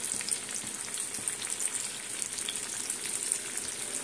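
Chicken cutlets fry in hot oil with a steady, bright sizzle and crackle, fairly quiet and close, with no voices.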